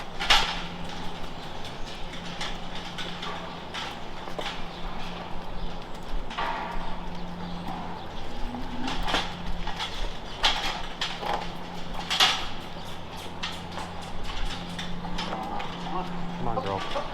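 Hooves of 15 to 16 month old pregnant heifers clop and shuffle across a barn floor, uneven steps with creaks and a low mechanical hum, while a person talks to the animals.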